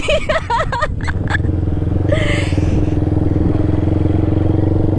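A Yamaha R15 motorcycle idles with a steady, throbbing engine and exhaust rumble. Brief speech comes first, and a short whine rises partway through.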